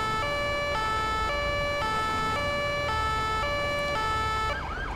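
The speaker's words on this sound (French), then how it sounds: "Ouais, c'est quoi cette sirène?" An emergency siren in the video game GTA 5 wails loudly and close in a steady two-tone pattern, alternating every half second or so before cutting off near the end.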